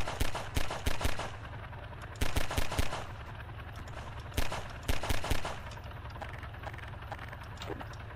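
Rapid bursts of automatic fire from guns mounted on an ACF airship in Garry's Mod, clustered volleys of three to five shots that repeat at intervals over a steady low engine drone.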